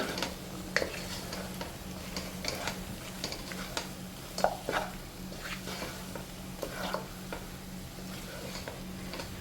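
Chicken biryani pieces coated in chicken masala and garam masala are mixed in a pan, with repeated close scraping strokes and soft clinks of a spoon against the vessel over a faint steady hum, no talking.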